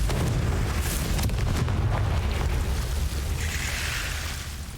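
A fire spell explosion in Hogwarts Legacy, a sustained, loud booming roar with heavy low rumble that fills the whole span and slowly fades toward the end, with no voices.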